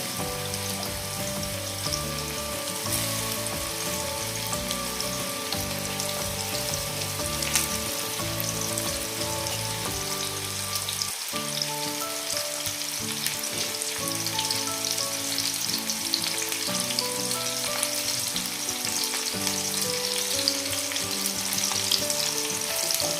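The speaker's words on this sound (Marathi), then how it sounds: "आता हे एका साईडने आपण फ्राय करून घेऊया" Ribbonfish (vaam) pieces coated in flour fry in hot oil, a continuous crackling sizzle that holds steady and close throughout, with no talking.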